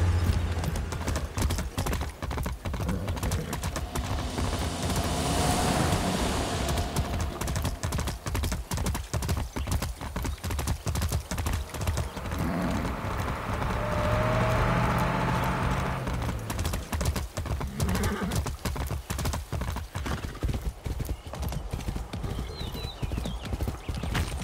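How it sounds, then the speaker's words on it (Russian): A horse galloping in the video game Far Cry 6, a sheriff's horse, with loud rapid hoofbeats pounding steadily throughout and a brief whinny, up close and constant with no voices. "Лошадь шерифа, моя теперь."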